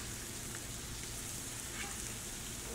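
Citrus sizzling steadily in a hot pan alongside cooking fish, a constant bright frying hiss with no pause and no one talking.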